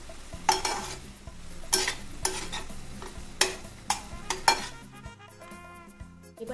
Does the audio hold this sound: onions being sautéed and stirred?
yes